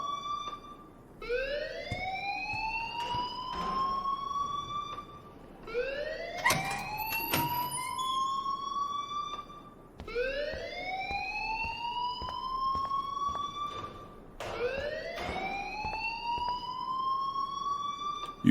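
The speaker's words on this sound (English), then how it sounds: "please turn off that alarm since that's your job" Rising and falling electronic alarm wail in the video game Life is Strange, repeating in four long sweeping cycles of roughly four seconds each, loud and steady with sharp electronic overtones and brief clicks between.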